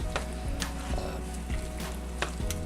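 Lightlife Gimme Lean Savory Beef, a plant-based ground meat, sizzling in a pan over medium heat with a steady crackling hiss and a few spatula scrapes and taps stirring it, close and alone.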